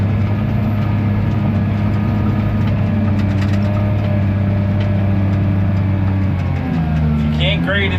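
Heavy excavating machine grading at full throttle in third gear, a steady loud low diesel drone with continuous engine harmonics throughout, shifting pitch near the end.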